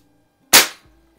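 Sheridan Blue Streak CO2 air rifle firing a single sharp, close shot with a quick fading tail.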